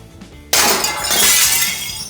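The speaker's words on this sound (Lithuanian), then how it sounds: "Tam, kad patikrinti, kokią žalą gali padaryti šitas balionas, čia turime stiklo lakštą." A sheet of glass shatters when struck by a swinging gas cylinder used as a pendulum, a sudden loud crash followed by a sustained bright spray of breaking and falling shards.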